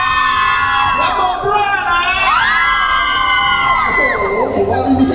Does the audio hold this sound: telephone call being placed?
no